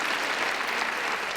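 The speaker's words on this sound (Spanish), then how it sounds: "pues aplaudamos a Lope, que es el que lo inventó." An audience applauds at a talk, with steady, dense clapping throughout a brief moment, fairly even and moderately loud, with no voices over it.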